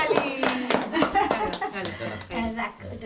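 Scattered hand clapping from family at a Bengali annaprashan rice-feeding ceremony for a baby, several quick claps close by, mixed with lively talk and a little laughter.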